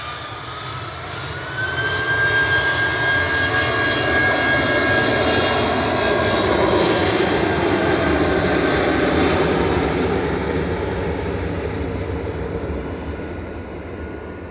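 Close and loud, an airliner departs Manchester Airport on a flight to London Heathrow, its jet engines surging up within two seconds into a sustained roar with a rising whine, then easing slightly toward the end.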